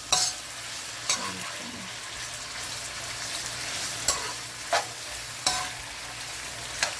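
Shrimp and chicken fried rice sizzling in a pan while being stirred Jamaican style, steady frying hiss broken by several sharp utensil scrapes and knocks.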